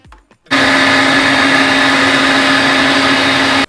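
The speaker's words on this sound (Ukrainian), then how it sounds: "я скористувався м'ясорубкою" An electric meat grinder starts abruptly and runs with a steady, loud, close motor whine while mincing boiled eggs and herring for forshmak, continuous to the end with no talk.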